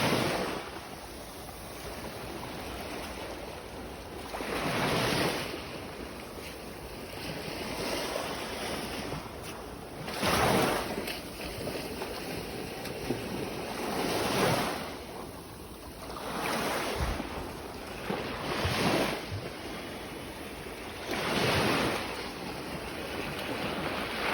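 Ocean waves wash onto the beach at Ko Samet in front of Ban Thai Saeng Thian, each surge swelling loud and close before fading, roughly every four to five seconds, with wind noise and no talking.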